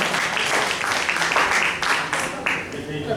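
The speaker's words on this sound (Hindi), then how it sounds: "इसलिए सभी महिलाएं एक बार तालियां बजाएं" Women in the audience at an MSME expo in Patna, Bihar, clap their hands together, a dense round of applause that runs loud and steady throughout, with a voice talking over it.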